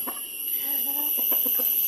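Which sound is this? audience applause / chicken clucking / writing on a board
chicken clucking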